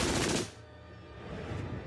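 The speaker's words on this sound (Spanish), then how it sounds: "La MG-42 era tan rápida que no se podían escuchar los disparos por separado." An MG-42 machine gun fires in a rapid, ripping burst so fast the shots blur together, loud and close, before giving way to a rumbling wash of noise.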